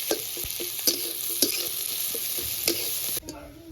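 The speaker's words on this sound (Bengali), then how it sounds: "পেঁয়াজটা হালকা লাল লাল করে ভাজবো।" Chopped onion with cumin sizzles in hot oil while a utensil stirs it, a steady close frying hiss broken by regular scraping clicks, with no talk over it.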